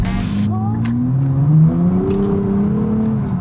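A 2023 Nissan Z with its stock exhaust revs, the engine note climbing and falling smoothly in a sustained close rise, with faint clicks and background noise.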